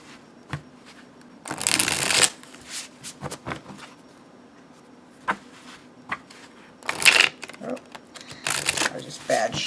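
A Tarot of Prague deck with thick cardstock is shuffled in several crisp, riffling bursts separated by lighter card taps and handling clicks, close up with brief talk between shuffles.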